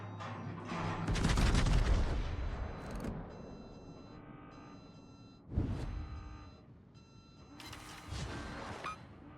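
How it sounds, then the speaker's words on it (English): Warship guns firing shells in World of Warships, heavy booming salvos with long rumbling tails, a big blast early, another sharp one midway and a third near the end, over game interface beeps. "I'm going to shoot this guy again"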